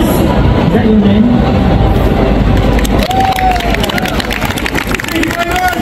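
At an outdoor street magic show, a crowd bursts into loud, sustained cheering and applause, dense and close, with voices shouting throughout.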